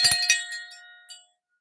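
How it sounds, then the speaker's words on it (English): A small metal turtle-shaped bell chimes twice, close and bright. The ringing tones fade gradually and leave silence, with no talk. "Not my turtle dove, my turtle bell."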